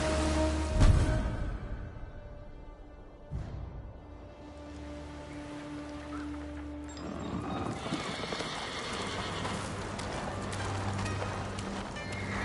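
The horse Kaze in Ghost of Tsushima gives a loud, close whinny near the start, then snorts and shifts about against low ambient game sound and music.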